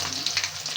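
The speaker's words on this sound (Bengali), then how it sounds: "মাছগুলো আমি কড়াইতে দিয়ে দিয়েছি। এখন ভাজা হলে তারপর তরকারিটা আমি" Bele fish sizzling in hot oil in a wok, a steady close hiss with small crackling pops throughout and no talking.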